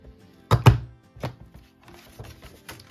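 A paper hole punch cuts notches into a journal with two quick loud crunching snaps close together, then a third, softer punch, followed by faint handling rustle.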